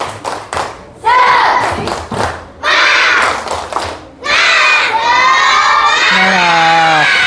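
A group of schoolchildren in a classroom claps in rhythmic bursts, then breaks into loud, sustained shouting and cheering together.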